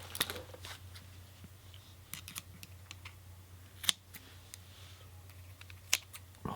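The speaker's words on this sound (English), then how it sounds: "use some scissors here" A handful of small, sharp scissor snips trimming a silica wick, spaced irregularly, close by in a quiet room with a low steady hum underneath.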